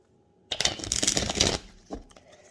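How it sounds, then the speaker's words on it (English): An Edgar Allan Poe tarot deck is shuffled by hand, a dense, crisp flutter of cards lasting about a second, then a light tap as the deck settles; no voices. "Just like to give them all a shuffle before I pop them back in the box."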